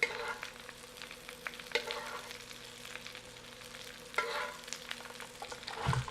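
Potatoes fry and brown in a hot pan, giving a steady soft sizzle with occasional louder crackles and stirring scrapes close by.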